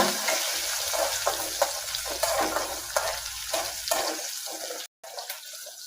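Onion, garlic and green chilli sauté in a pan with a loud, continuous sizzle and hiss. Regular scraping strokes from stirring run through it, and the sound cuts out for an instant near the end before picking up again.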